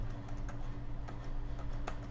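Keys on a computer keyboard pressed in a loose, uneven rhythm of soft clicks over a steady low hum, close and fairly quiet, with no talk.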